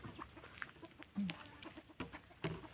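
Breeder hens and young chickens on a farm give repeated short clucks at irregular intervals, fairly close, with scattered louder calls and no talking.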